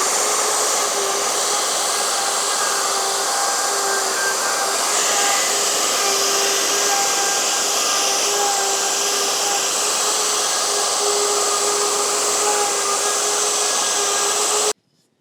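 A wood router plunge-cuts the inside of a wooden Christmas tree snack tray with a loud, steady high-pitched whine that holds for about fifteen seconds and then cuts off abruptly.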